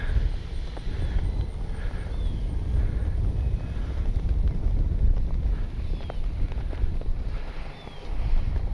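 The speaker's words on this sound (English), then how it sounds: "It is windy." Gusty wind buffeting a microphone at an RC jet flying field, a steady low rumble with surges and brief lulls, loud and close, with faint distant whines in the background.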